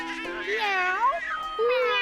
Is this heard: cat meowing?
yes